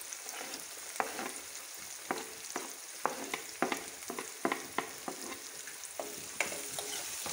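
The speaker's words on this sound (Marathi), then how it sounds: "तेलात चांगला तो परतून घेऊया।" Chopped onion frying in oil after a pinch of asafoetida, for a spicy Malvani pithla: a steady close sizzle with a run of sharp scraping stirs every half second or so, no voices.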